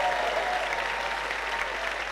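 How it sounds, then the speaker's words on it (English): Audience applause at a tournament: dense, steady clapping from a crowd, fairly close and sustained throughout without letup. "Round of applause for both our fathers over there."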